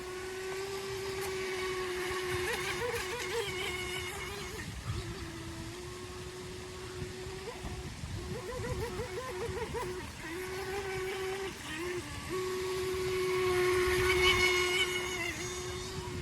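A small model boat driven by a Neu electric motor runs on water, giving a steady high motor whine that wavers and dips in pitch as it moves, with a water-splashing hiss underneath and louder passes toward the end.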